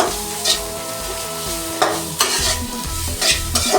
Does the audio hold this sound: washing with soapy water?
no